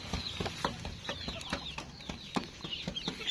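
Bantam chickens cluck in a busy run of short, repeated calls, fairly close, with overlapping birds and no voices.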